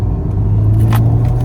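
A Ford Fiesta ST180 with a stage 1 tune accelerates while driving through town, its engine giving a steady, loud rumble from inside the cabin for a brief moment with no talking.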